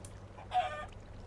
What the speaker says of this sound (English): Let's punch a chicken just to make us feel better.